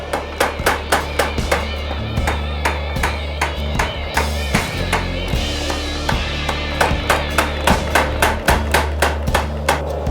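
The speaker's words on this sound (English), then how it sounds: "So I'm going to use the trip hammer." A trip hammer pounds steel being forged in a rapid, steady rhythm of loud, close blows, pausing briefly now and then before resuming.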